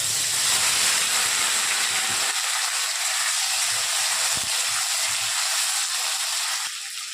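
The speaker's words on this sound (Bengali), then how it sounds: "এবারে আমি আলুগুলো ছেড়ে দেবো, দিয়ে আলুগুলো ভাজতে হবে।" Potatoes fry in hot spiced oil, giving a steady, loud, continuous hiss and sizzle close by, dropping slightly in level near the end.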